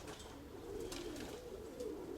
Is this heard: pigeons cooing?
yes